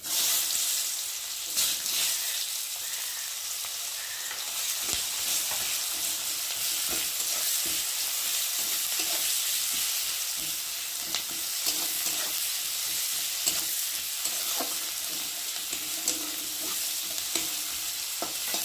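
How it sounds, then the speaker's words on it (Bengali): Chopped onions fry steadily in oil with bay leaf and garam masala, a dense continuous sizzle broken by irregular scrapes and clicks of stirring, close and fairly loud, with no voices. "এবার দিয়ে দেবো কেটে রাখা কুচানো পেঁয়াজ।"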